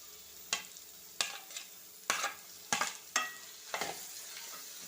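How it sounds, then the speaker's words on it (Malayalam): Onions frying in a pan with crushed garlic and green chili for prawn biryani, a steady sizzle broken by about six sharp scraping stirs at irregular intervals, close and alone with no voices. "ഇനി നമുക്കിതിലേക്ക് സവാള ഇട്ട് കൊടുക്കാം."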